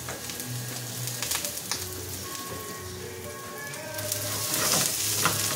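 Wagyu fried rice frying over low heat in a pan, a steady close sizzle and crackle with occasional stirring scrapes, no talking.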